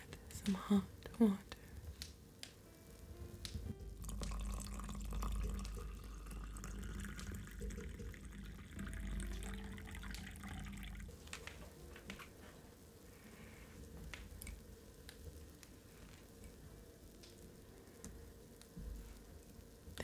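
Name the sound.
hot water being poured into a pumpkin mug for chai latte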